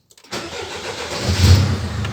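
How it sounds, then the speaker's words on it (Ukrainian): A 2004 Mercedes Sprinter van's engine cranks and catches after a brief silence, then settles into a steady, loud idle with a low rumble swelling slightly near the end. "Так, заведемо машину."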